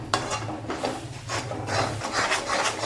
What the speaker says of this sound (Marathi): आता हे मसाला सगळा चांगला भाजून घ्यायचा